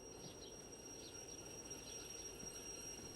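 A train rolls along its rails in a video game, a faint, steady rumble with soft repeated high squeals and a constant background hum, and no voices.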